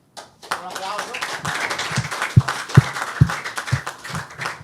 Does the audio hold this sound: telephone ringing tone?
no